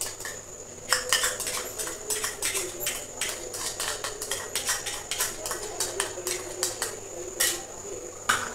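A spoon scrapes and clinks against a metal pot while garlic paste is stirred into butter chicken, a fast, steady run of close, bright clatters over a low background hum.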